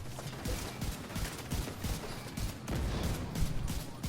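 Rapid, sustained gunfire pounds a raid boss in The Division 2, a dense barrage of overlapping automatic shots with steady rhythmic bursts and no talking over it.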